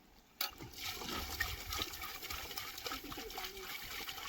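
Water is tipped from a drum into a big pot of biryani, beginning as a sudden gush and then running as a steady, quiet pour and splash close at hand.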